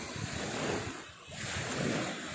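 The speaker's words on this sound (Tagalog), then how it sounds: "Ganda ng tunog ng alon." Ocean waves break and wash along the coast at Atabayan, Tigbauan, Iloilo, with broad surf hiss swelling, dipping briefly, then rising again, along with some wind rumble on the microphone.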